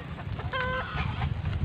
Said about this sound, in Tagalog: Mayroon pa manok,